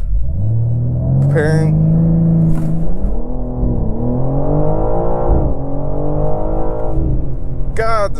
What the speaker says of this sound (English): But I do want to try a quick acceleration.